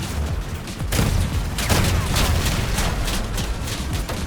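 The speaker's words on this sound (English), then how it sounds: "We'll take him out with our cannon." Bursts of booming gunfire and cannon blasts in the video game Crossout, several sharp loud shots in quick succession over a noisy rumbling battle background, with no clear speech.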